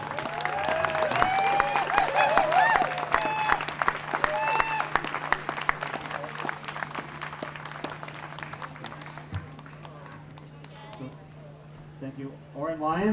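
Applause and cheering from a crowd at an outdoor music festival, strongest early on and thinning out over time, with a steady hum underneath and scattered voices and whoops.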